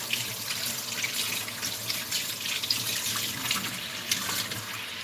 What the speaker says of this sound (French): on va simplement rincer ça pour enlever un max de sel